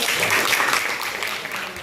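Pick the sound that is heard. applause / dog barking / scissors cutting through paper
applause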